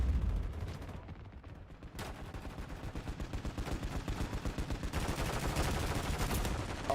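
Bursts of automatic gunfire in the Warzone video game, with rapid rhythmic shots building into a dense, sustained volley toward the end, at moderate volume with no clear talking.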